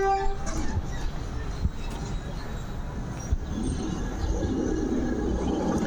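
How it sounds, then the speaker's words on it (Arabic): A blue tram pulls into Cleopatra station in Alexandria, its wheels rumbling and faintly squealing on the rails amid street noise, heard from a moderate distance. "شي الترام الزرقاء اهي، محطة كليوباترا من المحطات المشهورة"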